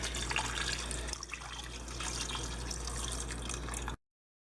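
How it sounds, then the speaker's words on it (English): Two cups of water pouring steadily into a slow cooker, a continuous splashing rush with a brief dip partway through before it cuts off abruptly. "now we're going to do 2 cups of water"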